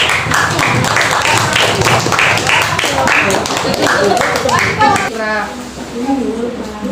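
Dense clapping from a group fills a classroom for several seconds, then thins out as a voice begins speaking near the end.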